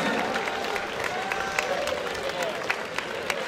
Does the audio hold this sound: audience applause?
yes